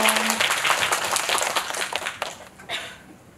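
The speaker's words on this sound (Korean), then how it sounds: "박수 부탁드립니다." Loud applause from a cinema audience at a film screening event in Seoul, dense clapping that gradually thins and fades out toward the end.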